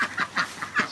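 Four ducks quacking at close range, several short nasal calls in quick uneven succession, loud and clear with no talking over them.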